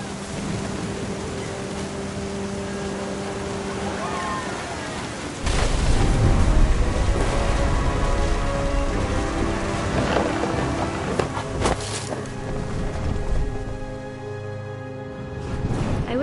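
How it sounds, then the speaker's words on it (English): Steady rain pours in a video game thunderstorm, and a heavy, close thunder crash breaks in about a third of the way through, then rumbles on under soft tonal background sounds. "The thunder sounded much too close and full of angry power."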